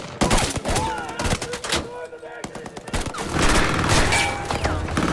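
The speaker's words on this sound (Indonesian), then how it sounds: "Lalu disusul para anggotanya dan terjadi kembali kontak tembak antar mereka" Rapid bursts of gunfire crack back and forth between soldiers fighting German troops in a war film, shots layered with booms and thuds, loud and dense throughout with brief lulls and faint voices underneath.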